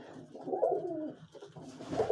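Domestic pigeons cooing nearby in soft, throaty, rolling calls at evening feeding, one longer coo followed by a pause and another starting.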